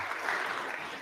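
Applause for Speaker Kevin McCarthy on the House floor: a dense, steady wash of clapping from many people, moderately loud and continuous throughout, with no talk over it.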